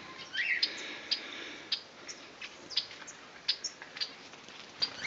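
Cockatiels in an aviary give short, sharp chirps scattered irregularly over a soft, quiet morning background, several small calls in quick succession and no speech.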